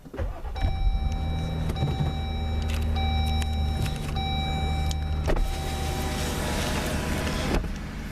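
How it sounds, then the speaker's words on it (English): Inside a 2021 Jeep Wrangler, an electric motor hum runs steadily throughout with faint clicks and a brief louder thump near the end, close and moderately quiet, with no one speaking. "now I'm gonna go inside my Jeep. I'll show you what it sounds like"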